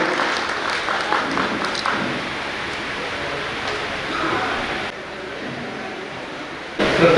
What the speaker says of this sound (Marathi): त्या सर्व मान्यवरांचा आपण जोरदार टाळ्या पुन्हा एकदा